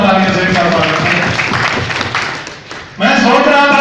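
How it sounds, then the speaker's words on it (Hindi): Loud, sustained applause from the audience at a one-day community council conference in Rajasthan, a dense wash of clapping that dips briefly and then swells again near the end. "जोरदार तालियों से"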